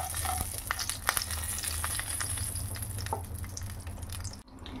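Lentil dumplings (bori) fry in hot oil with a soft, continuous crackling sizzle dotted with scattered sharp pops, heard close up at a fairly low level with no talking.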